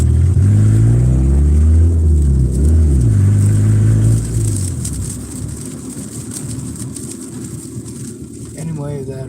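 A car engine revs loudly and climbs in pitch, dips with a gear change, then settles into a lower drone, heard from inside the vehicle with road noise.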